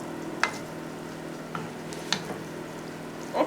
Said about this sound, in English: make sure you stir it very well so you don't end up having half white